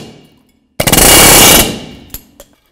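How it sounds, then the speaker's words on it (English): Air hammer knocking the ball joints out of a 1984-2001 Jeep Cherokee knuckle: one loud, close burst of rapid pneumatic hammering lasting under a second, then a few separate sharp metallic knocks as it stops. "I like to use an air hammer."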